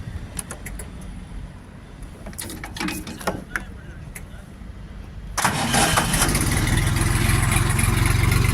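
Quiet clicks and shuffling give way to the small diesel engine of a Jinma 244 mini tractor cranking and catching, then settling into a loud, steady idle close by.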